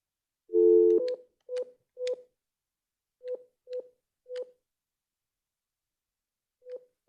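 Telephone keypad tones beep in short separate presses. One longer tone comes first, then several quick single beeps with pauses between them, all clear against silence, with an automated prison phone line.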